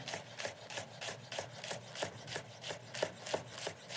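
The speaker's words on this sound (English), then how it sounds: "So I'm cutting them into slices about 1/8 of an inch on a side" Knife slicing hot chili peppers into thin slices on a cutting board, a steady run of about a dozen crisp, evenly spaced cuts at close range with no talk.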